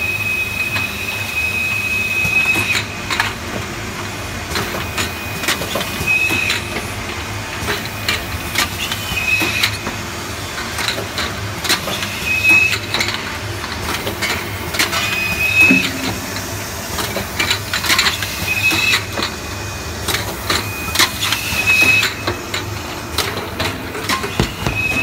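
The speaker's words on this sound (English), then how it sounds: "Okay, now we are going to run the machine." An automatic aluminum tube filling machine runs continuously, a loud steady mechanical drone with repetitive clacking and pneumatic hisses cycling throughout, including a recurring high whine.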